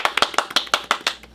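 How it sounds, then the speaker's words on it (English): Hand claps in quick, uneven succession, about nine sharp slaps over a second and a half, close and fairly loud with no talking, applause from the video game Doki Doki Literature Club Plus. "I'm the first to start applauding."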